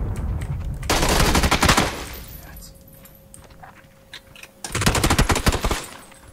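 Automatic gunfire in the video game PUBG: two loud, close bursts of rapid shots, the first lasting about a second, the second a little longer, with a quieter gap of game noise between them.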